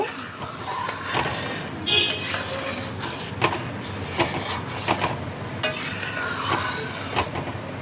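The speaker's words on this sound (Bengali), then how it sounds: "এক চামচ ঘি ঘি দিয়ে আবারও একবার ভালো করে মিশিয়ে নেব" A spoon stirs ghee into bitter gourd and bottle gourd tetor dal in a pot, giving repeated scraping clinks and soft wet swishes at an irregular rhythm, fairly close and steady.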